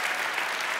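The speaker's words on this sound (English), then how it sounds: "can we just give Rich a huge round of applause for being with us" An audience claps warmly and steadily in a church setting, a brief burst of applause with a few cheers mixed in.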